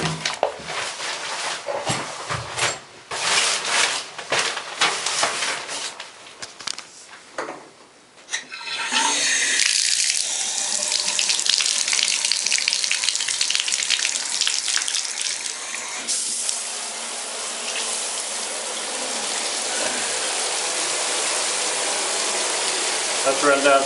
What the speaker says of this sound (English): why don't we turn the shower on and give it a test